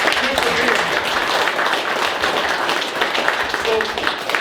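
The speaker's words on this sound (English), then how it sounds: "give everybody themselves a round of applause" A crowd gathered outdoors at a park meet and greet applauds together, a dense, steady patter of clapping that carries through the whole moment with some voices mixed in.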